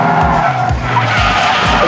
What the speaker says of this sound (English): turn, pull, counter steer. Flat down on the floor, like that.